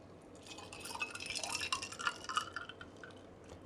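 A Christmas cocktail poured into a glass over ice, a soft trickling splash with faint clinks that builds and then tapers off. Close and quiet, with no voices.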